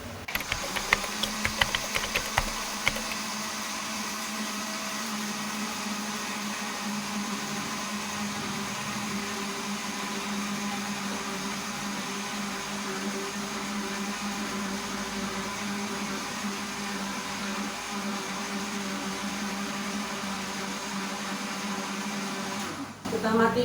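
A blender runs steadily at high speed for about twenty seconds making a smoothie, with a constant whirring drone, then cuts off abruptly at the end.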